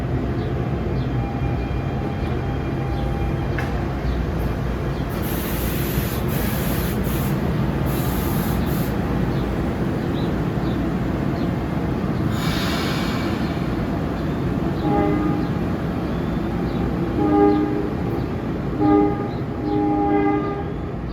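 An NJ Transit Dinky train leaves Princeton Junction for Princeton. A steady, loud rail rumble runs throughout, with bright horn-like blasts early and near the middle, and faint ringing tones toward the end.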